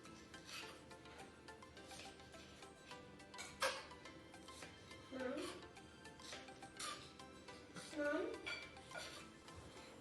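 Kitchen knife slicing spring onions on the diagonal on a chopping board, a series of soft, close taps and scrapes, with a voice talking over them.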